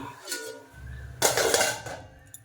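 Dishes and cutlery clink while rice is served onto plates in a home kitchen, a soft scrape followed by a louder burst of clattering near the end, with no talk.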